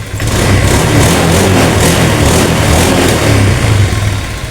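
A 2015 Honda Beat FI motorcycle engine with injector trouble runs steadily close by, holding a continuous loud idle with light throttle rises throughout and no pauses.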